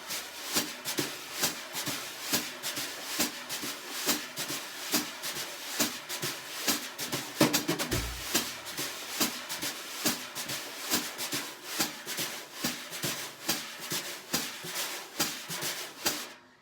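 Steady jazz brush swishes and light taps on a drum, a shuffling ride pattern with quick right-hand skip strokes leading into beats 1 and 3, close and continuous with no talking.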